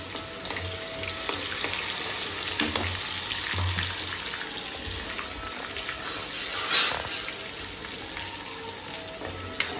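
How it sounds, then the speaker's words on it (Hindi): Ginger garlic paste frying in hot oil in a kadai gives a soft, fairly quiet sizzle with faint clinks and one brief sharper burst midway, steady and without talk. "तेल जो है गर्म हो चुका है उसमें अदरक लहसुन का पेस्ट डालेंगे"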